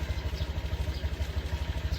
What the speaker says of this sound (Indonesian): Pakai motor, guys.